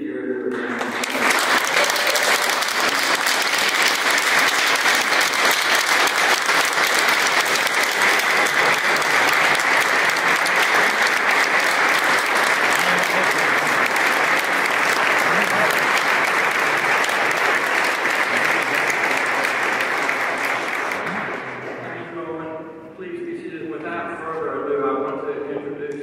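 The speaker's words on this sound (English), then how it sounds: "Please give Gary Wood a round of applause." Loud, sustained applause from an audience at a Virginia public observance for Gary Wood, a dense wash of clapping lasting about twenty seconds before fading, with a voice beginning to speak at the end.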